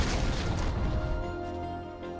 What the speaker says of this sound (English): Death's Daughter, an enormous cannon that deals tons of true damage at the beginning of the ultimate